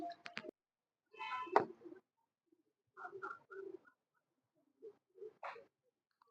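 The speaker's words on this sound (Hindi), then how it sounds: "ओरिजिनल पिपला वाले कबूतरों का आपको शो करवाया जा रहा है" Soft pigeon coos come in short separate bursts with quiet gaps between them, fairly close in an otherwise still setting.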